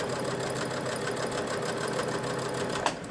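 Sewing machine stitching a sleeve over gathered fabric, a steady fast mechanical whir with even rhythmic pulses throughout, close and fairly quiet.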